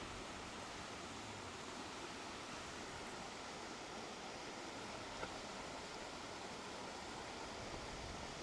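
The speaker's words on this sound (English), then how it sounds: "Sound of running water." Continuous hiss of running water near a lake, a steady broadband wash that stays even and moderately faint throughout with no voices.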